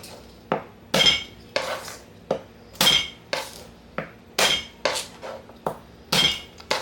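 Glass jars clinking in a kitchen pantry area, sharp ringing dings struck at irregular intervals, about a dozen bright clinks with short decays, loud and close with no talk.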